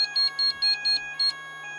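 An addressable fire alarm system with detectors triggering sounds a loud electronic alarm, steady repeating beeps in an even rhythm over a continuous high tone, close and with no talking.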